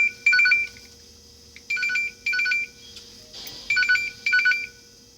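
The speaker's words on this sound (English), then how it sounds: "Damn, I'm getting a phone call." Phone ringtone for an incoming call, a bright repeating electronic melody in short bursts with gaps between, clear and fairly loud over a quiet hum.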